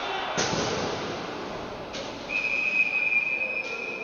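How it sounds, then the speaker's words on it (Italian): At an ice hockey game, a referee's whistle blows a sustained, shrill tone to call a foul, cutting through arena crowd noise and muffled thuds. "Attenzione, viene fischiato un fallo a Vendrame per colpo con bastone."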